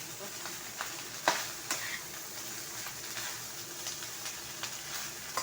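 Rice being stirred into chicken fried rice in a hot pan: a soft, steady frying sizzle with scattered scraping clicks from the spatula, fairly faint throughout.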